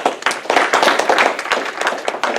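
Audience applause at a council meeting during a swearing-in ceremony, steady dense clapping from many hands filling the room, sustained and fairly loud throughout.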